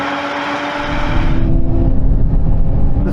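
A Lotus Emira and a Toyota Supra drag racing, heard as loud engine roar and wind rush that swells into a heavy, low rumble as the cars pass close, with no talking.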